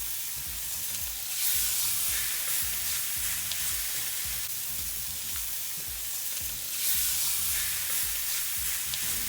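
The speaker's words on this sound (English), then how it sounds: "I know you guys can hear that sear." Pork steaks sear in a hot cast iron skillet with a steady, loud sizzle and crackle throughout, swelling briefly where a second piece goes in, with no talking.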